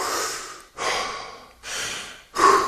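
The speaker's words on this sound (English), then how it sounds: "Like when we normally take a breath, we go" Person breathing in and out through the mouth, close up: three slow breath cycles, each a soft airy rush broken by short pauses. The last one is sharper and louder.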